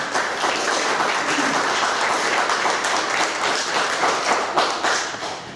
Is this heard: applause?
yes